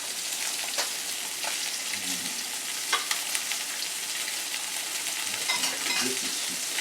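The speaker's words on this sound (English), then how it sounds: "while this fish is cooking there" Branzino fish pan-searing in a hot pan sizzles and crackles continuously at a moderate level, with occasional faint stirring sounds.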